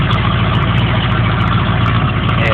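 A 1980 Ford F100 truck idles through a leaky aftermarket exhaust, a loud, steady low rumble recorded close up with no pauses or revs.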